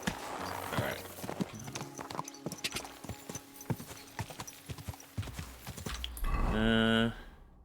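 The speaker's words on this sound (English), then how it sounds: "Hey, Pebbles the Wonder Horse." Rhythmic clip-clop of horse hooves trotting on a hard surface in Kingdom Come: Deliverance 2, fairly close, followed by a loud horse whinny near the end.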